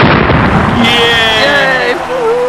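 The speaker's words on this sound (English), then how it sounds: "Such a satisfying explosion." A loud, sustained explosive blast with whistling tones sets off a giant snail race at a game show event, filling over two seconds with rumbling, crackling noise.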